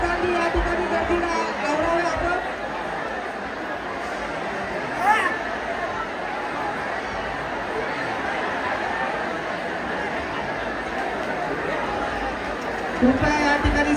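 A crowd of devotees at a Kali temple night festival in Ghatkopar chatters in a steady, dense babble of overlapping voices, with a few louder bumps.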